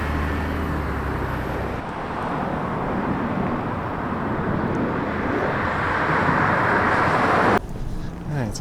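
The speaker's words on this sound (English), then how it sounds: "So just know there's a lot of traffic here. It's Maryland Parkway, and there's a lot of noise too." Steady, loud road traffic on Maryland Parkway beside a park, a continuous broadband roar of passing vehicles that swells slightly before cutting down near the end.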